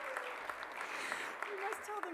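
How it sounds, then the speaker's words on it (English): Faint audience applause at a college honors program awards ceremony, a soft steady patter of clapping with a voice speaking over it. "Can we give you a round of applause?"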